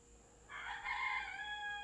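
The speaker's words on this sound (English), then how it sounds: "I'm curious if they're crowing because they can hear me talking" Roosters crow from a distance, one drawn-out call rising and holding for over a second, fairly faint over a quiet background.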